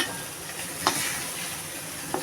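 Leafy greens (shak) fry in a pan with a constant soft hiss, broken by two brief stirring clicks, close up.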